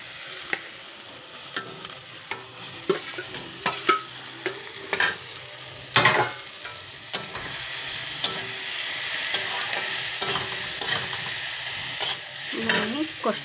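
Vegetables fry in hot oil in a pan, a continuous close sizzle punctuated by frequent clattering scrapes of a spatula against the metal.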